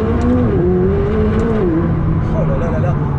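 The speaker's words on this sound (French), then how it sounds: "on est parti pour une petite accélération" A Ferrari 488 Pista or McLaren 600LT sports car accelerates with a loud, close, rising engine note that wavers and climbs, while someone talks over it.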